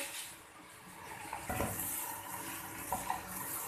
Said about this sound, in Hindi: तो भूनेंगे हम अच्छे तरीके से।